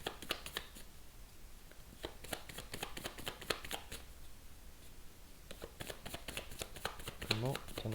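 Tarot cards being shuffled and drawn from a deck, quiet rapid papery flicks and snaps in clustered bursts at close range, with no speech over them.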